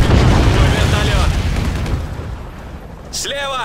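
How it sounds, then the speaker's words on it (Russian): Fuel tanks blow up in the video game Stranglehold, a deep booming roar that starts loud and slowly fades. A voice speaks briefly near the end. "Постарайся попасть вон в те баки с горючим."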